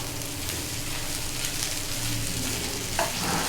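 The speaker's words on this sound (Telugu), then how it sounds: "దీన్ని బాగా కలుపుకోవాలండి, అన్నీ కలిసేలాగా." Powdered idli mixed with onions is stirred in a frying pan, a continuous close sizzle under scraping stirs with one sharper scrape near the end.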